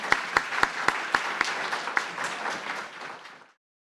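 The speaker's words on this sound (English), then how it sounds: "join me in giving our panelists another warm round of applause" A conference audience applauds the panelists of a panel discussion, a few loud, close claps standing out over a dense crowd patter that tapers off and then stops abruptly.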